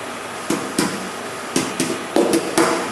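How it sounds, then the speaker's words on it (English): Sharp metallic strikes of a hammer on a dolly against metal car bodywork ring out, six blows in uneven pairs over steady background noise, close and fairly loud. "hammer on dolly. I'm trying to raise this."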